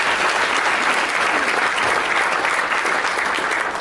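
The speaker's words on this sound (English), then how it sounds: "Please give them all one more little round of applause." Steady audience applause fills the room at a community foundation event, a dense, even patter of many hands clapping at close range with no pauses for about four seconds.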